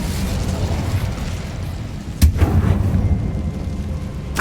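The Incendio fire spell in Hogwarts Legacy blasts with a sharp explosive boom partway through, framed by rumbling fiery crackle, with a smaller burst at the end.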